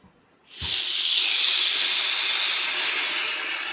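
Loud, steady hissing sizzle as fish hits a very hot grill, bursting on suddenly and holding evenly for several seconds.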